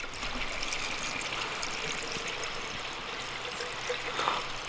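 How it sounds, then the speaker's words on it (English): Water is poured steadily into a car's coolant reservoir, a continuous trickling gush that holds at a fairly even level for several seconds with no speech. "So now we're just gonna dump water in here."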